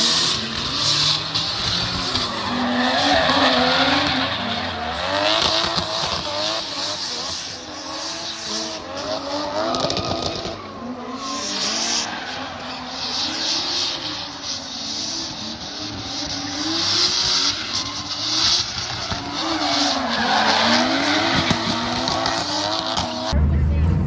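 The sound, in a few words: cars drifting with tire squeal at Newport Speedway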